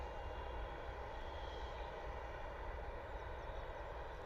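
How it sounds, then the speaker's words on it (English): A Ryanair airliner on runway 27 at Bristol Airport, heard as a steady, broad roar of jet engines at a distance, holding even and unbroken throughout with no voices. "Ryanair is lined up on runway 27 in front of us, heading out to Future Ventura"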